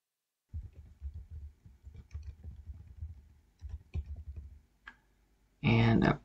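Computer mouse and keyboard clicks sound during an email account setup, soft close irregular clicks and taps in quick clusters, ending with a louder burst of noise.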